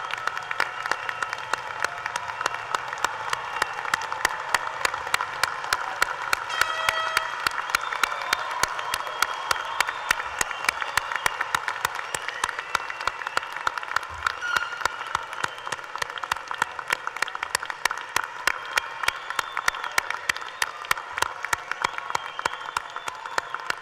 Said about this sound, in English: applause. We salute you.